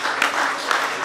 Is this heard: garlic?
no